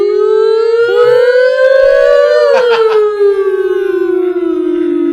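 A loud wailing siren rises and falls steadily in pitch, sustained throughout, with a brief burst of rough noise partway through.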